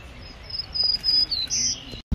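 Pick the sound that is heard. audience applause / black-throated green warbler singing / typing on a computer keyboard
black-throated green warbler singing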